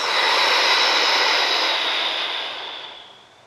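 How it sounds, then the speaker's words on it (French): A deep exhale through the mouth during prenatal yoga breathing, one long breathy rush close to the microphone that fades out over a few seconds. "Et on expire vraiment par la bouche."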